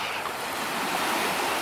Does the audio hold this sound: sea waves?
yes